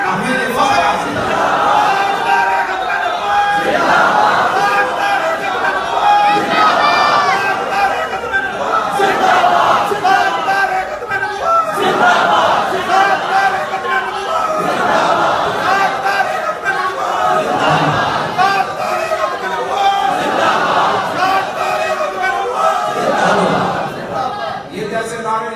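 Large crowd at a religious rally chanting slogans in loud, rhythmic collective bursts that rise and fall repeatedly, voices massed and near throughout.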